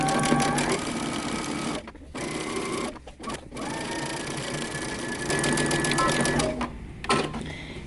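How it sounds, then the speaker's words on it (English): A sewing machine stitches dress shoulder straps together in steady, rapid mechanical runs, pausing briefly several times before resuming. "we're going to sew our straps together using 5/8 of an inch seam allowance"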